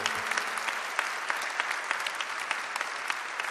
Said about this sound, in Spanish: Quiero que aplaudamos todos a Lali y a todos los que organizaron este hermoso evento